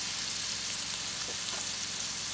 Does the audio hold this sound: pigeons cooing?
no